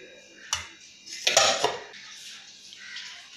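Steamed egg buns are moved onto a plate in a kitchen, with a few close clinks and clatters of dishes and utensils, the loudest cluster in the middle, and quiet background in between.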